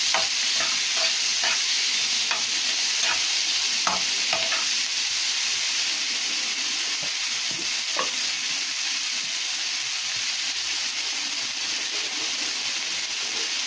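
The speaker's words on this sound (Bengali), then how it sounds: "মাছ ভাজা তেলের মধ্যে আমি পেঁয়াজ রসুনটা দিয়ে দিলাম" Chopped onion and garlic hit hot oil left from frying fish, bursting into a loud, steady sizzle with a few early crackles and stirring clicks, close and continuous without speech.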